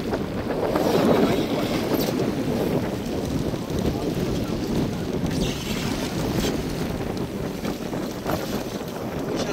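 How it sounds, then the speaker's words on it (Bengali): Steady wind and choppy waves buffet a hand-rowed boat in the middle of the Garal river near the Marichjhanpi forest, a constant rushing roar with wind noise on the microphone and no clear talk. "মাঝখানে এসেই বুঝতে পারছি যে নদীতে কীরকম ঢেউ হচ্ছে"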